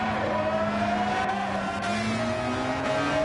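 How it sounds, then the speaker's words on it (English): A race car engine in Gran Turismo 7 drones steadily at high revs, its pitch slowly climbing with a faint tire squeal, loud and continuous with no one talking. "I hear a noisy engine behind."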